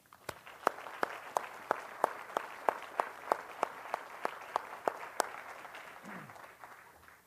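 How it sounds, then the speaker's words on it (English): Scattered, sparse clapping from a small audience at a military change of responsibility ceremony, a slow run of distinct hand claps about every third of a second, fairly faint and fading out. "Please join me in a round of applause for them."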